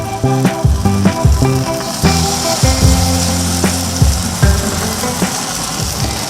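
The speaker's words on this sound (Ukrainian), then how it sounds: "Шкварчить, нормально." Potato pancakes (deruny) frying in a pan of hot sunflower oil, a steady close sizzle running under repeated clanks and knocks of cookware, with no talk.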